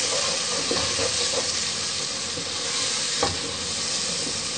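Ground spices with red chili and turmeric frying and being stirred in a pan for aloo matar, a loud close sizzle with intermittent spoon scrapes and one sharper knock, no voices.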